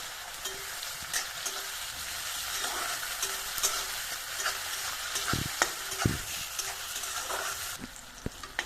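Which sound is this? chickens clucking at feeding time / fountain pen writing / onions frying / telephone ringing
onions frying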